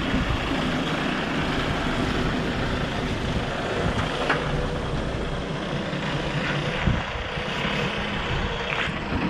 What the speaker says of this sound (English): Speak of the devil, the lorry has arrived.